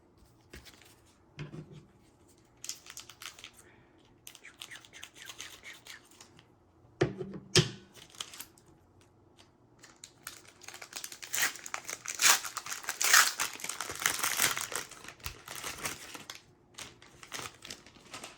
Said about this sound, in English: I'm having to cut the top off and then pull it from the seam on the back because they don't want to open